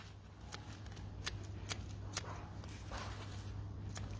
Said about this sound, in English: cut all those roots right back